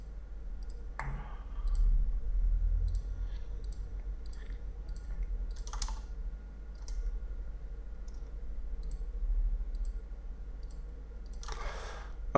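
Sparse computer mouse clicks during 3D modeling of turned furniture in 3ds Max, a few sharp isolated taps spread apart over a low steady hum, with no talking.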